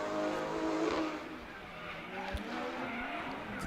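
Taylor James's drift car at Pukekohe Park Raceway during D1NZ Pro-Sport qualifying roars at a distance with tyre squeal and a sharp engine swing, heard under crowd and circuit noise.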